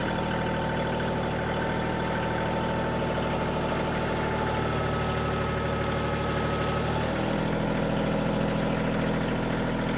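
A Kioti CK2610 compact tractor engine runs steadily at idle while lifting a woodshed, a continuous low rumble that drops slightly in pitch partway through, heard alone without speech.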